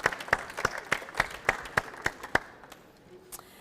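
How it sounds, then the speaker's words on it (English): A small audience claps for a photo and video contest prize winner at a climate conference, a sparse, distinct run of separate claps that thins out and stops after a couple of seconds. "So, an applause for Franz Bachmann, please."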